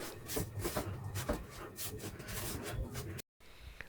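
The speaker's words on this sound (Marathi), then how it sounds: "परत तूप टाकत राहावं सतत परतत राहणं ढवळत राहणं हीच खरी यातली मेहनत आहे" Semolina and gram flour being stirred with ghee in a pan for rava besan ladoo, a steady scraping and rubbing of the spoon against the pan in quick, irregular strokes, close and moderately loud, with a brief gap near the end.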